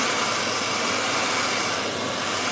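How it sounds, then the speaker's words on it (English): A hair dryer blows steadily at close range, a continuous loud whooshing hum with no pauses. "You see how fast it dries? This hairdryer."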